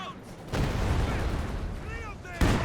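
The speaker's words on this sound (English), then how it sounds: "Was a mortar in this case, getting rid of that machine gun from the building." Mortar fire in Company of Heroes 2 on a World War II battlefield, with a sharp launch thump at the start and another near the end over a steady rumble of distant combat noise.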